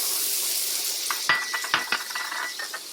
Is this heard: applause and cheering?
no